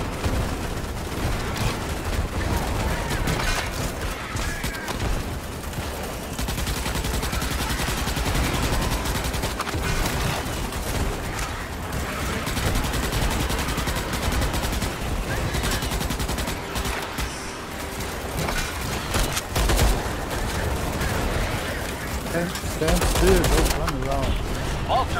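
Steady gunfire in the Starship Troopers video game rattles on without a break, with dense automatic bursts and booms. Players talk under the noise throughout.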